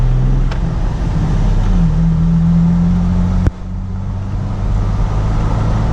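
A Jeep TJ Wrangler with 4.10 gears and 173,000 miles drives in fourth gear, its engine a loud, steady drone from inside the cab that climbs in pitch as it accelerates, with one sharp click partway through.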